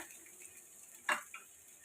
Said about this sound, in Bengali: এখন আমি এখানে প্রায় কিছুটা কুচানো পেঁয়াজ অ্যাড করে দিলাম, দিয়ে এটাকে আমি এখন একটু ভাজতে থাকবো।